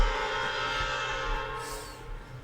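A Nathan P1234A5 air horn, a variant of the Nathan P5, sounds on an Amtrak Turboliner train as a sustained, loud, multi-tone chord that holds steady and then fades slightly near the end. No voices are heard.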